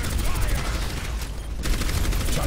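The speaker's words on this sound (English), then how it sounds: "You were shooting me that whole time, and then Rhino just took me!" Dense, sustained automatic gunfire from an Overwatch match, including turret fire, rattling loud and close throughout the short burst, with faint voices mixed in.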